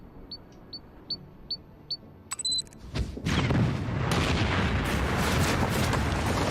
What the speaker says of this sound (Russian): взрыв надо было побольше